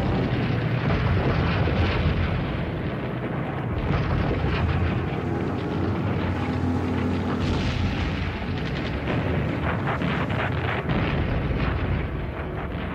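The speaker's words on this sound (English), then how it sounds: "To their north, the guns of Normandy explode." Artillery guns explode during the June 1944 Normandy invasion, a dense, continuous rumble of booms and blasts rolling on for the whole stretch, heavy and sustained with no clear gaps.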